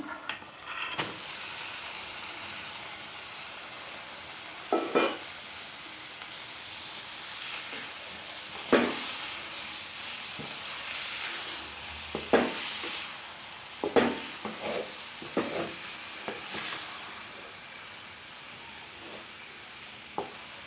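Boiled goat tripe is stirred into a sizzling masala in a pan, a steady frying hiss with repeated scraping and clanking stirs of a spoon, close and continuous with no talking.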